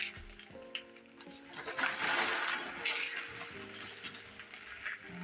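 Bark chips go into a plant pot while repotting in a kitchen, making scattered rustling and clattering as the pieces patter and settle, close by, with no talking.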